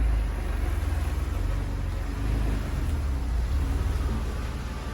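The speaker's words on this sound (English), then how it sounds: "let's go ahead and go for a test drive now and see how it feels to drive a 997 with a 10 on the top" A Porsche 997 cruising with a Smittybilt XL rooftop tent on the roof, a steady low engine and road rumble with broad wind noise heard from inside the cabin, continuous and unbroken.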